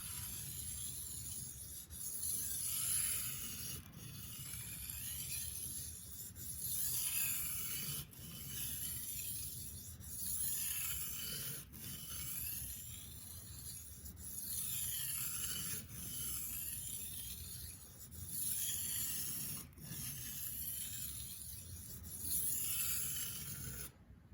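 A kitchen knife is stroked repeatedly across a sharpening stone, producing steady rasping scrapes in a regular back-and-forth rhythm, close and clear, with no talking.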